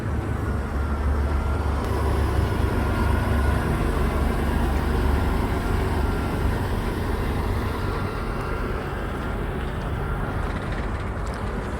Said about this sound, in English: Let me let this truck go by real quick.